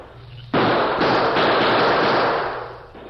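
A sudden volley of gunfire in an old radio western drama, a sheriff and townsmen shooting, loud and dense as a continuous crackling burst that holds for a few seconds before tapering off.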